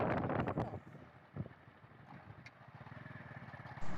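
Riding a motorcycle through a village, with engine rumble and wind buffeting the microphone, steady but fairly faint, with a few bumps and louder gusts near the start and end.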